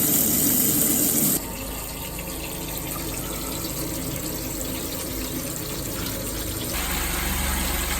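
Water runs through a NuCamp 400 camper's fresh water system to flush out bleach, a steady close gushing from a faucet. The character shifts abruptly twice, as if the flow or pump changes.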